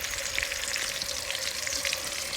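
Onions fry and crackle steadily in hot oil in a pan while being tempered for a crab curry, a close, continuous sizzle with no voices.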